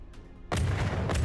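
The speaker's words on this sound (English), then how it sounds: "I didn't actually think to make a AA gun or anti-munition gun, CIWS cannon." Rapid automatic CIWS cannon fire from a player-built anti-aircraft, anti-munition turret in the naval building game From The Depths, a sudden dense loud burst of gunfire that keeps going to the end.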